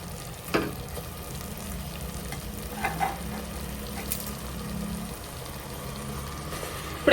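Eggs dropped one by one into onion paste sizzling in a pan for egg pulusu, a steady close frying hiss with a few soft taps as they go in and no talking.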